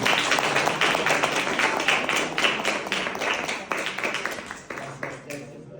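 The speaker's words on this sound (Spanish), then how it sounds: "Así que otro aplauso para Jaime." A room full of people at a talk on Frida Kahlo in Madrid claps enthusiastically, dense rapid clapping that gradually thins out toward the end.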